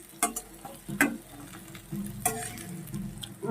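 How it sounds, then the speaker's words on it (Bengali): Potatoes and soybean chunks fry in hot oil with a soft crackling hiss, overlaid by a few sharp spatula scrapes and knocks against the pan at irregular intervals. "আলু সয়াবিনটা আগে ভেজে নিচ্ছি"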